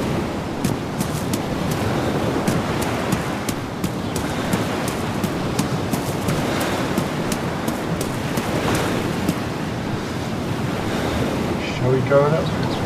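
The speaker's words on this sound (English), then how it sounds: "Hear the sound of the beach." Ocean waves break on a beach in the video game DayZ, a continuous rushing surf with wind noise that swells slightly near the end, heard alone.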